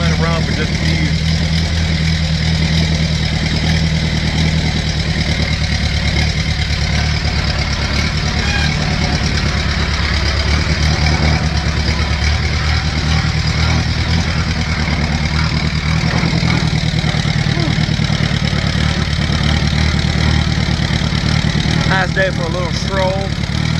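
An antique vehicle's engine idles in a steady, rumbling drone close to the microphone, continuing throughout while someone talks over it.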